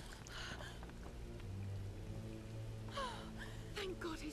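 Steady rain falls in the Tomb Raider video game, a soft patter behind game sounds, with a voice talking over it and a few brief gasps and effects.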